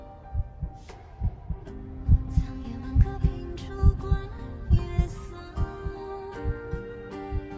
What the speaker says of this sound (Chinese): 你的心跳声，我一直都能听见。